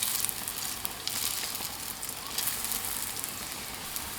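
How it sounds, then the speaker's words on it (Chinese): Youtiao dough sticks fry in hot oil with a continuous bright, crackling sizzle throughout, fairly soft and steady. "我们拿过油条生坯，轻轻抻一下，放入锅中。"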